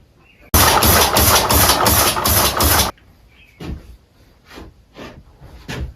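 A homemade four-cylinder shaft rotator air engine runs loudly in a rapid rhythmic chuff for about two seconds, then stops, followed by a few softer puffs and clicks.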